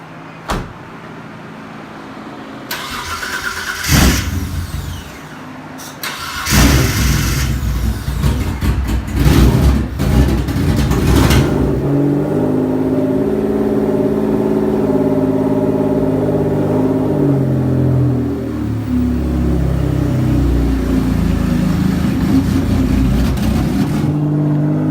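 A 1993 Mitsubishi 3000GT SL fires up with a door thunk and a quick rev, then settles into a steady idle as the car is slowly turned around, loud and close with no talking.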